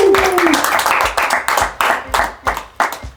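Hands clap in a bar in a rhythmic series of sharp, close slaps, each clap separate and punchy, with a voice sounding briefly at the start.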